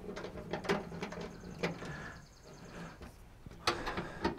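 Bolts being snugged down by hand on a 2013 Ford F150 Raptor, giving soft clicking and ratcheting metal sounds in irregular bursts, close and fairly quiet, with no talking.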